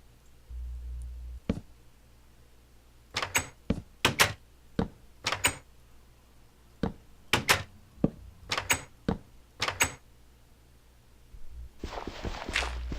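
Minecraft trapdoors being placed and flipped open and shut: a string of sharp wooden clacks and clicks, spaced irregularly in small clusters over quiet background, fairly close and crisp, with no speech.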